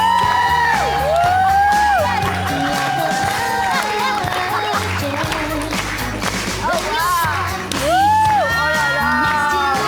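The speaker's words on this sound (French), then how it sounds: "c'est le moment où nous allons tous applaudir" A French television studio audience claps, whoops and cheers to welcome a guest onto the set, a lively crowd noise mixed with loud music and some voices throughout.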